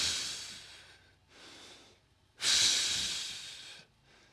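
Slow, audible breaths during a kneeling front line stretch hold: a softer inhale followed by a longer, louder airy exhale, close to the microphone with no talking.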